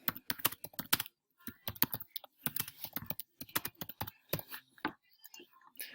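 Rapid typing on a computer keyboard while working in a document, a close, crisp patter of keystrokes in quick uneven runs with a brief pause near the start.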